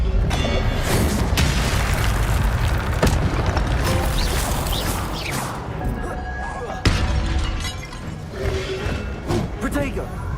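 Incendio fire spell cast in Hogwarts Legacy, loud crackling bursts and booming impacts layered in a dense, chaotic combat mix, with voices shouting over it.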